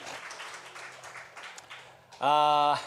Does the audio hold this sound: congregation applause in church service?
yes